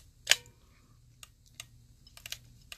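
Handheld label maker clicking as text is keyed in, a sharp near click followed by scattered lighter ticks and taps at irregular intervals against quiet background hum.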